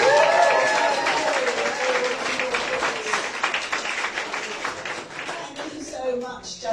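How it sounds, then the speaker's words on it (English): Audience applause for the judges at a business book awards shortlist livestream, steady broadband clapping from a crowd that gradually thins, with a voice speaking over the start. "I think they deserve a round of applause."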